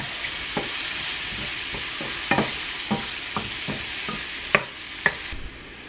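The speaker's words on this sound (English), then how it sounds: "I'm just going to let these mushrooms kick down a little bit." Mushrooms frying in a pan with a continuous sizzle, punctuated by occasional scraping knocks of a spoon or spatula as they are stirred, close and with no talk.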